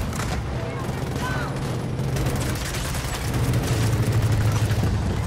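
Gunfire in the video game Gears of War 4 during campaign combat, a dense continuous barrage of loud shots and rumbling under a low droning hum, heavier toward the end.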